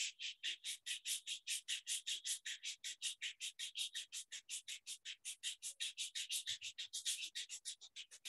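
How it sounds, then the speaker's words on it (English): Two palms rub briskly together up close, a quick regular run of dry swishing strokes, several per second, continuing evenly in near silence. "Rub your both palms."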